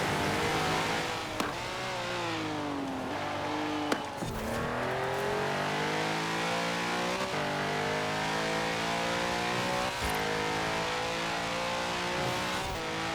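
Race cars in Forza Horizon 4 roar continuously at close range, engines revving and shifting through gears with repeated rising pitch sweeps, loud and steady with no talk.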